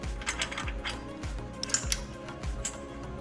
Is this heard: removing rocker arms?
yes